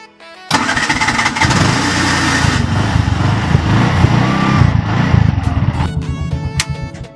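A tuk tuk's small engine is started with the key, catching suddenly after a brief quiet moment and then running loud and close with a steady, slightly uneven rumble that continues to the end.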